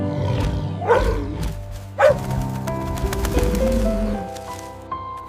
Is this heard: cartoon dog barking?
yes